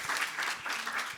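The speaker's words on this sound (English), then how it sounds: "Can we give them a round of applause once again" Short burst of audience applause at a panel discussion on gender, human rights and the environment, steady broadband clapping that fades slightly at the end.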